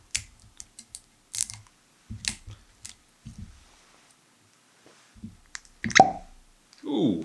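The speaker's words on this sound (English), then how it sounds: "Ooh, nice pop. A little bit of vapour coming out. Nice wet cork." A wet cork pops out of a bottle of High West A Midwinter Night's Dram whiskey, one sharp close pop among small handling clicks and taps, followed by a brief voiced exclamation.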